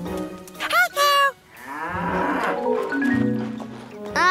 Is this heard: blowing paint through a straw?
no